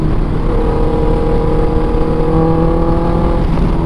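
A Honda CB650F motorcycle engine revs hard and steady under acceleration, loud and close throughout with a constant dense roar and no talking.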